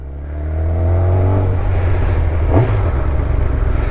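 A used Kawasaki ZX10R hypersport motorcycle engine rises into a loud rev close by, the pitch climbing and then holding at a steady roar.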